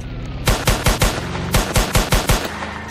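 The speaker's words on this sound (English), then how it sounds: "Alright, I'm gonna shoot out his tires." Gunfire in the Roblox game Emergency Response: Liberty County, aimed at a car's tires: two quick rhythmic volleys of sharp, close shots, four or five cracks each, separated by a brief pause.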